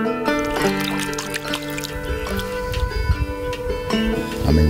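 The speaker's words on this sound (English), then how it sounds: "Artesian spring-fed pool." Water trickling and pouring in an artesian spring-fed pool in Texas Hill Country, a close, continuous liquid babble with a faint background hum.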